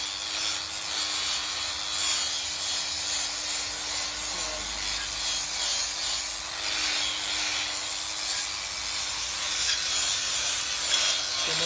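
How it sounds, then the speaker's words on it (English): Rust and paint are scraped off a part on a Kawasaki W900L motorcycle, a continuous close abrasive rasping that keeps a steady level for the whole stretch, with no voices. "Get most of the rust off and all the paint."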